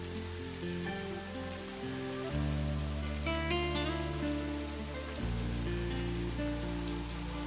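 Steady rain falls throughout, a constant hiss mixed under loud sustained music whose chords shift twice.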